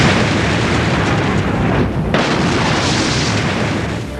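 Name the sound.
explosion sound effect in a dramatised bombing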